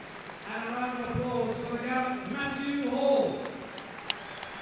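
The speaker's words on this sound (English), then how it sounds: "And a round of applause for the gallant" A boxing arena crowd in Birmingham applauds and cheers after a European light middleweight title fight. The clapping is steady and spread out behind a voice with a sustained tonal hum.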